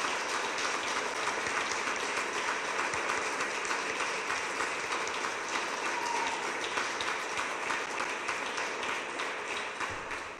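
Sustained audience applause at a PSD/CDS coalition campaign presentation, steady dense clapping throughout at fairly low level, fading slightly toward the end.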